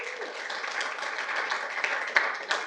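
Applause at a city council awards ceremony: steady, moderately loud clapping from a seated audience in a meeting room, lasting throughout with a few sharper individual claps near the end.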